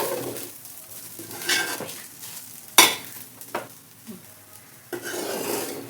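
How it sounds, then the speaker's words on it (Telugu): A spoon stirs and mixes pudina rice in a metal pan on a switched-off stove, giving soft scraping and occasional sharp clinks of utensil on pan, close by and without talk. "ఇప్పుడు స్టవ్ ఆఫ్ చేసి కలుపుకుందాము"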